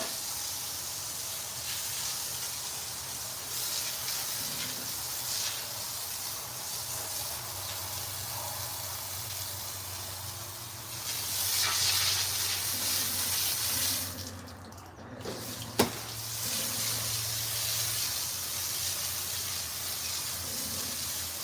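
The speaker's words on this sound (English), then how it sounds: "I can snatch you up from over there and just spray you down with this water hose" A garden water hose sprays continuously, a steady hissing rush of water that swells briefly partway through, with a sharp click near the end.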